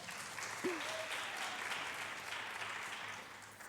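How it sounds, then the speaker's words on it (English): An audience at a college pageant gives sustained applause, a steady mid-level clapping that runs throughout, with a brief whoop or whistle near the start. "Please give them a round of applause."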